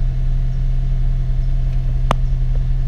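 A Honda Civic Si FA5 idles with an Invidia Q300 exhaust fitted, a steady low engine hum held evenly throughout, with one brief click partway through.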